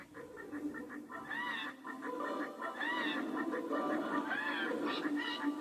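Game birds on a songbird perch in a Skylanders level sing in repeated warbling, chirping phrases that sound off-key, layered over a steady music bed and continuing throughout.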